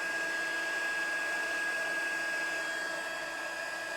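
An embossing heat tool blows a steady, loud whirring hiss with a faint high whine as it melts embossing powder on a handmade card, continuous throughout with no talking.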